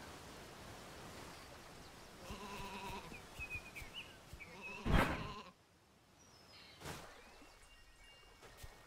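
Sheep in a video game bleat several times, with wavering nasal calls standing out clearly over a soft hiss of background noise and a sharp thump partway through.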